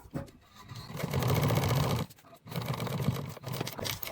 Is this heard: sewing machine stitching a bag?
yes